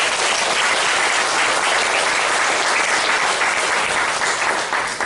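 Sustained, loud applause from a church congregation at a Korean worship service marking a 100th all-night devotion, steady dense clapping filling the whole stretch with no talk.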